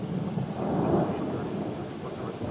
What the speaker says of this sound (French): ça tonne bien fort